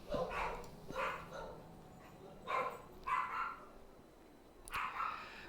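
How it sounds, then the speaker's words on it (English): Several sharp dog barks arrive in separate bursts about a second apart, moderately near and fairly loud over a quiet background, with no speech alongside. "dogs."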